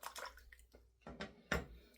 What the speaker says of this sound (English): Oh, that's definitely water.